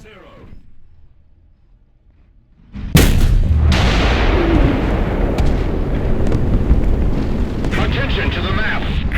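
A Centurion AVRE tank gun fires in War Thunder: a sudden, loud booming blast after near-silence, followed by a sustained roaring rumble and crackling debris that carries on to the end, with a second sharp report soon after the first.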